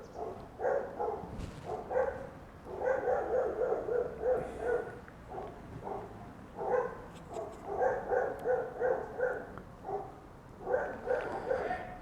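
Dogs barking in the distance in a French village, repeated rhythmic bursts of barks continuing steadily with brief pauses, heard outdoors over light background noise.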